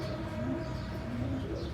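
A racing pigeon coos softly with a low, rolling call, fairly close but quiet, over a faint background hum.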